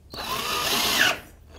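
A cordless power drill whines steadily for about a second while drilling a hole, a sustained high-pitched motor buzz that cuts off abruptly, with no talk.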